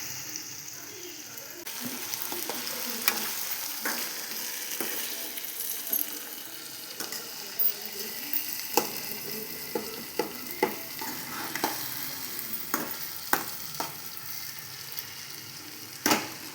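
Masala spices frying in hot oil in a pan for egg bhurji, a steady broadband sizzle with repeated sharp stirring scrapes and clicks throughout, close and fairly loud, no talking.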